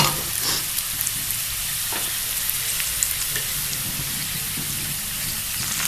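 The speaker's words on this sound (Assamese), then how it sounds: "এয়া চব পটলখিনি ভালদৰে ফ্ৰাই হৈ গৈছে" Pointed gourd (potol) frying in a pan gives a steady, dense sizzle and crackle throughout, close and even, with small pops and no voices.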